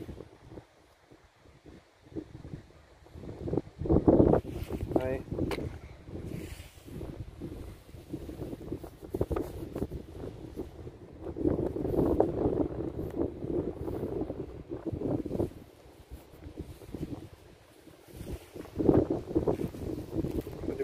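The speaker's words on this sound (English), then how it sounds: "it's pretty windy today" Gusty wind buffeting the microphone outdoors on a metal-detecting outing, a rough low roar that swells and fades in waves throughout, with brief faint voice sounds in places.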